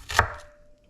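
A knife slicing half a red onion very thinly, one single crisp cut landing on a board, close and brief with no voices.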